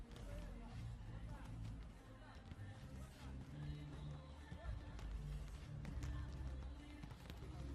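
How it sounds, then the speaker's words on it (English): Spectators filing into a volleyball arena before a women's club world championship match between Praia Clube and Altay, with a steady, busy hubbub of crowd chatter, footsteps and scattered thumps inside a large hall, under a commentator's talk. "The crowd just starting to flood in this morning."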